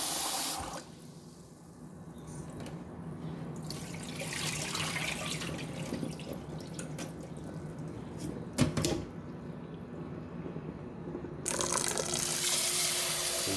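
Rice being washed in water at a kitchen sink: a continuous tap-like rush and slosh of water with a few louder splashes and swirls, fairly near and with no talking.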